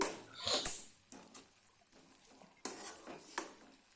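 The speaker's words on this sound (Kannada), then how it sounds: "ಪಲ್ಯಕ್ಕೆ ಹಸಿ ಕಾಯಿ ತುರಿಯನ್ನು ಹಾಕಿಕೊಳ್ಳ ಹಾಕಿ ಎಲ್ಲವನ್ನು ಚೆನ್ನಾಗಿ ಬಡಿಸಿ" Stirring onion-leaf palya mixed with grated raw coconut in a pan: soft scraping and clinking strokes of a spoon against the pan, a few sharper taps, moderately close with no talk.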